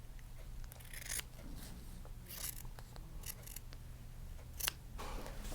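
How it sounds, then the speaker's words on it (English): A miter cut being made with a series of crisp, separate snips spaced a second or so apart, close and fairly quiet over a low background hum. "I'm going to cut that miter."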